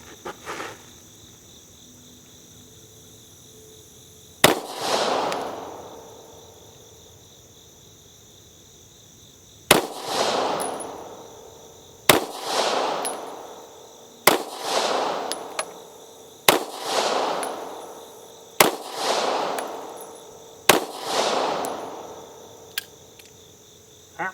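A Taurus GX4 pistol fired at a range after a factory recall, with seven loud sharp shots: one alone, then six in a steady rhythm about two seconds apart, each ringing out with a short echo.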